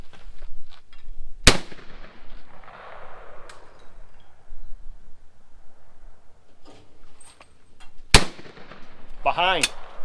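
Two sharp, loud shotgun reports from a new Caesar Guerini 20 gauge on a sporting clays course, spaced several seconds apart, with faint outdoor ambience and a brief voice near the end.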